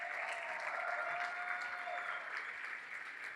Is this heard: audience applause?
yes